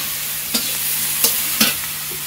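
Water lily stems fry in hot oil with ginger, cumin and chilies, a steady close sizzle broken by three sharp scraping stirs of a spatula against the pan.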